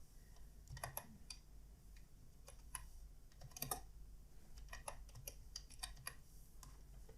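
Keys on a computer keyboard tapped in short irregular bursts while HTML text is typed, close and quiet against a faint steady hum, with no talking.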